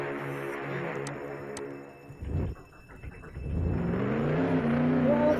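A car drives along in the Roblox game Jailbreak, its steady engine hum and whir rising at the end as it revs and speeds up, with a brief rough dip partway through.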